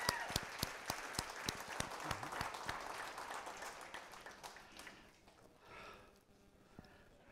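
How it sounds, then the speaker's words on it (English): A congregation at a faith service claps for a man, a burst of sharp, dense hand claps that gradually thins out and fades to scattered claps by the end. "Give him a hand clap"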